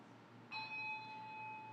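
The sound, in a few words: silver bell ringing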